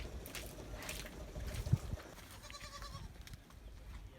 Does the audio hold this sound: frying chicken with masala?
no